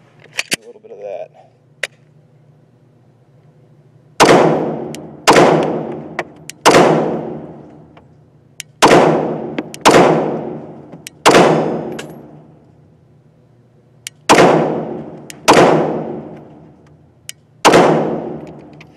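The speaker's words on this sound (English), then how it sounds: "9mm shoots just as well as out of the 357" Nine-millimetre rounds fired from a .357 revolver: nine loud, sharp gunshots spaced one to two seconds apart, each with a short ringing tail, after a few faint clicks of handling at the start, with no talking.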